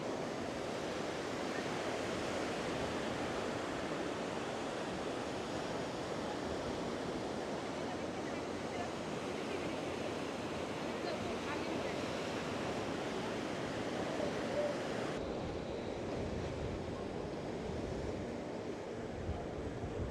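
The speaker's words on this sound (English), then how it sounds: "That ocean breeze feels so nice." Steady roar of ocean waves and wind at a beach pier in Los Angeles, continuous broadband wash with gusting breeze buffeting the microphone, no distinct breaks throughout.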